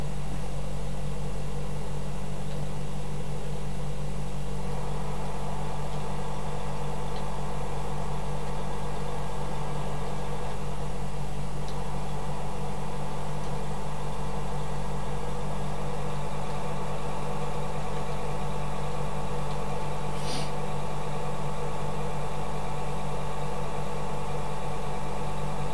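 A tractor engine idles in the farming game Farming Simulator 2015, giving a steady, continuous low hum with a constant drone that runs unbroken throughout.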